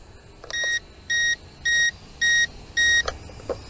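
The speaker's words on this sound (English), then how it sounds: "it's doing that beep, beep, beep," An ATTOP W10 WiFi FPV camera drone emits five evenly spaced, clear electronic beeps while in 360-degree flip mode, each a short tonal pulse with brief gaps, close and distinct.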